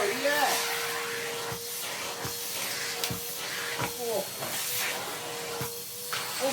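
A Henry vacuum cleaner, freshly repaired, runs on a small patch of carpet with a steady loud broadband hiss and whine, a few brief dips and surges as the head moves.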